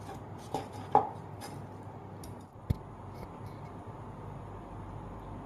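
A knife slices lotus root on a cutting board in a kitchen, a few sharp separate chops and taps close by against a faint background hiss, with no talking.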